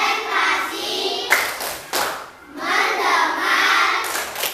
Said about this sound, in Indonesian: mari sama-sama kita tepuk konsentrasi